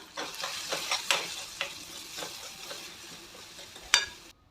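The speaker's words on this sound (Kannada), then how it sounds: "ಹಾಕಿ ಚೆನ್ನಾಗಿ ಮಿಕ್ಸ್ ಮಾಡ್ಕೋಬೇಕು." Chili powder, turmeric and salt being stirred into a frying mixture in a pan, with repeated scraping strokes and light sizzling, close and fairly quiet, no voices.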